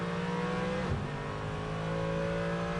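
Endurance race cars at the Bapco Energies 8 Hours of Bahrain, an FIA WEC round, roar steadily up the straight, a sustained multi-engine drone with a brief pitch dip as one car passes close by.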